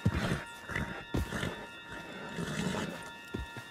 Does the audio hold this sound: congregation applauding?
no